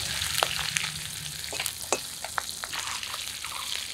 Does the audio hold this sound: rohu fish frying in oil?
yes